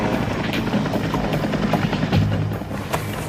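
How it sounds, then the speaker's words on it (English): A surveillance helicopter flies overhead with a dense, steady rotor thrum and broadband roar, loud and close for the whole stretch, with no voices over it. "Surveillance helicopters and jets have buzzed the expedition"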